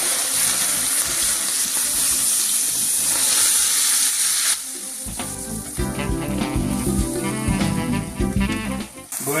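Ethiopian Fir-Fir spices stirred into a loudly sizzling pan, a steady hiss of frying that shifts partway through into a bubbling, clattering stir, close and continuous without speech.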